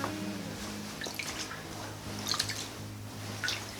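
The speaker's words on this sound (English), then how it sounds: "I'm just going to gently place it in the tub." A vintage quilt lowered into a water-filled bathtub, giving soft drips, gentle sloshing and squishy splashes at close range, fairly quiet under a low background hum.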